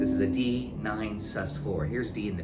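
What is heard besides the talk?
None of the usual background noises is heard.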